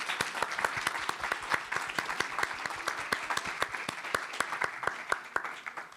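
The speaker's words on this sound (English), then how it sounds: "I would really appreciate if we could give Cheryl a big round of applause." An audience at a museum event applauds, a steady burst of sharp, distinct handclaps at moderate distance, continuing evenly without voices.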